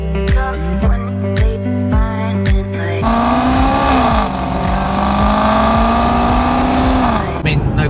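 A Maserati GranTurismo engine roars steadily at high revs, loud and close, after a few short revving bursts, cutting off near the end.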